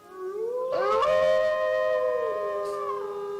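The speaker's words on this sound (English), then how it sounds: "Do we hear the wolves just howling in the distance" Wolves howl in the distance: a long, rising then level tonal howl joined by overlapping voices gliding at different pitches, sustained for several seconds and heard alone without speech.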